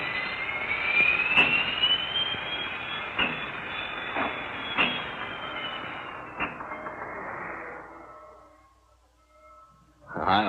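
A Norfolk and Western time freight train rolls steadily along the rails with a loud, sustained rumble and hiss, several sharp clanks punctuating it, before fading toward near quiet and a sudden loud burst at the end.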